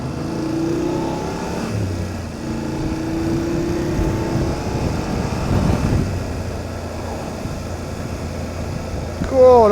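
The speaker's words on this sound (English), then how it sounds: "I love the sound of that Triumph." A Triumph motorcycle engine drones steadily while touring Cornwall roads, with rising and falling engine tones over constant wind and road roar, continuous and close.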